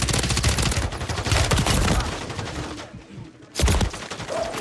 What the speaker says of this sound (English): Why is everybody shooting me?